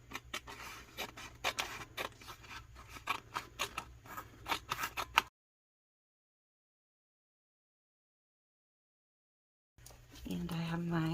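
Scissors trim the end off a paper tumbler wrap in a run of quick, close, crisp snips, followed by silence and then faint talk.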